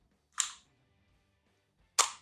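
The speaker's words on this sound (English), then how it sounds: "The darts load into the shell casing like so." Two sharp plastic clicks, spaced about a second and a half apart, as foam darts are pushed into the rubber O-ring shell casing of a Voisky Speed Max toy blaster.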